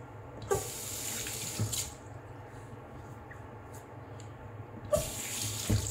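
A bathroom sink tap runs steadily while a razor and face are rinsed after shaving, a soft continuous water hiss with a few brief splashes and clinks, quiet and close with no talk.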